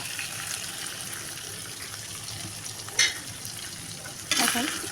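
Cabbage stirred in a pan with oil and turmeric gives a steady, close sizzle, broken by a couple of brief scraping clatters near the end.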